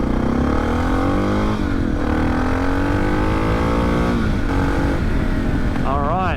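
Suzuki DR650 motorcycle accelerating hard on a freeway, engine revving up through the gears with rising pitch and clear shift breaks, loud and continuous close to the rider, with wind rush underneath.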